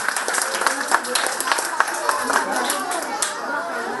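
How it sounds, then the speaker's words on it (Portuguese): Scattered applause from a small crowd at a community centre event, uneven claps mixed with chatter and a voice, fairly close and continuous throughout. "Aplauso para nós, FC Pro SUAX"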